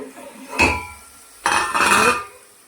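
A lid clatters loudly off a pan of bitter gourd frying in oil, with two metallic rattling bursts separated by a soft sizzle.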